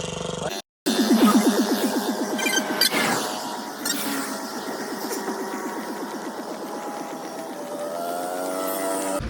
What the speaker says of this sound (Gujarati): રિક્ષાનો અવાજ આવે ભાઈ બહુ અતિશય રિક્ષાનો અવાજ આવે.